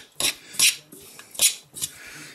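Nuts being stirred into pemmican, a dry fatty mixture, in a bowl: four or five short, close scraping and clinking strokes at an uneven pace, with no talking.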